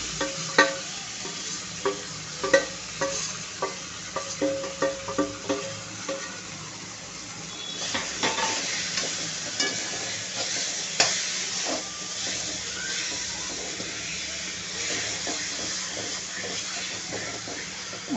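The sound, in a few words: stirring eggplant into frying garlic in a pan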